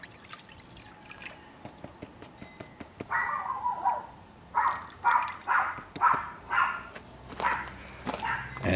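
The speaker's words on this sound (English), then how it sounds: "my apologies for the dog next door" The dog next door barks repeatedly in the distance during outdoor gold panning, a series of rhythmic barks in the second half over faint water trickling and handling sounds.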